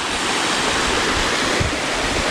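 Lengang waterfall in Maros, South Sulawesi, running with reduced dry-season flow, gives a continuous broad roar of falling water, steady and enveloping with no voices.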